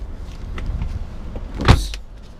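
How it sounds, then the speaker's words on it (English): A single brief mechanical clunk with a short whir, close by, as a rear seat folds flat inside a 2017 Chrysler Pacifica Touring Plus minivan, over a low interior hum. "these seats do fold flat here in this vehicle"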